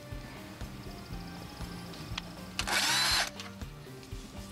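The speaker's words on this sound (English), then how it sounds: "Now we can go ahead and screw in our two screws." A power screwdriver drives two screws into the capacitor bracket of a Payne A/C unit. There is one loud burst of whirring near the middle, over a steady low thumping background.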